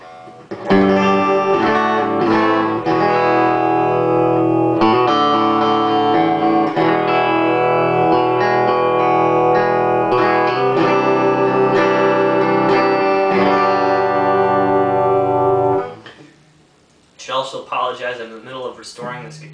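A clean electric guitar plays through a Weber Revibe reverb and tremolo unit with the effect controls at zero, sustained chords ringing loud and close before a short pause and a few softer notes.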